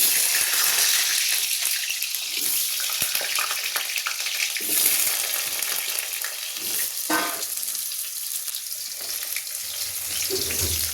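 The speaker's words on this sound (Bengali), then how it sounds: "এর মধ্যে তেল দিয়ে দেবো, দিয়ে আলুগুলো ভেজে নেব।" Potatoes fry in oil in a hot wok, a loud, continuous hiss and crackle with occasional bursts as pieces are moved, heard close and without speech.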